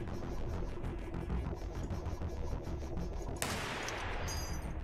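Rapid gunfire in the first-person shooter Receiver 2, a fast string of close, punchy shots in a regular rhythm, followed by a brighter burst of noise near the end.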